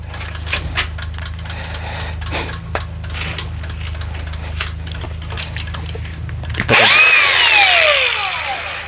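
Power tool working on rusted floor screws of an IVECO van, a long steady mechanical hum with scattered clicks, then a louder, harsher whining burst near the end.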